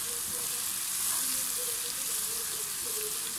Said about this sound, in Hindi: इस टाइम पर मैंने अंदर लहसुन अदरक का पेस्ट डाल दिया और थोड़ा सा मैंने ज़ीरा भी डाल दिया